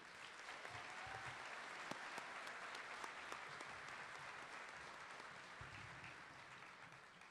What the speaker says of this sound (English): Let's give these recipients one more round of applause.